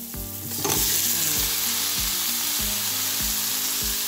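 Pumpkin and beans fry in a hot pan for a vegetable khichuri, a loud continuous sizzle broken by rhythmic scraping as the vegetables are stirred, with no talking.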